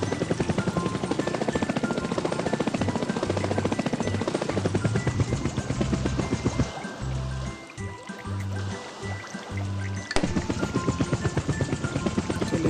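A cartoon helicopter in a children's farming vehicle cartoon whirs with a steady, loud rotor drone, dropping to a choppier, sputtering rhythm midway before resuming its full buzz, with bouncy background music throughout.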